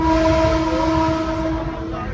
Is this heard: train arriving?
yes